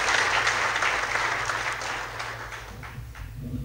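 An audience at a talk on books and reading breaks into loud, dense applause that starts at full strength and gradually thins and fades toward the end.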